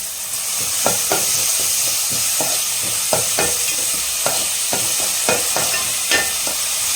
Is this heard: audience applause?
no